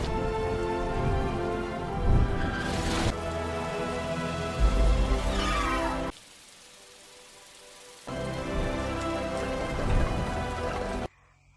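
Rain falling over a city in the Fantastic Beasts film, a steady wash heard alone under a loud musical score, with a brief drop to near silence partway through before the rain and music return.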